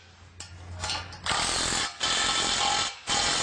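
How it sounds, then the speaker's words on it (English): A power drill driving bolts while assembling an Iron Edge Matrix structure, heard as several loud, close bursts of whirring and ratcheting mechanical noise separated by short pauses, with no talking. "So I'm using a good old drill here, which is going to make things nice and quick."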